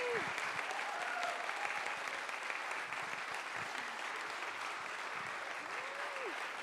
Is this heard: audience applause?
yes